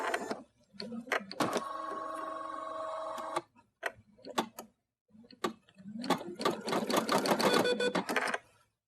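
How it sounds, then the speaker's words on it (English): An embroidery machine stitching a quilt starts up with clicks and thumps, then hums through a steady stitching run and a busier, rattling stretch, with short pauses between. "So I'm going to go ahead and start the embroidery."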